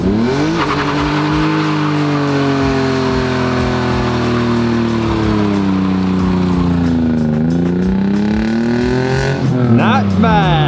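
An old car's engine revs hard and steadily through an attempted burnout, its rising and falling drone loud and close with a faint tire squeal at the end, while voices talk faintly over it.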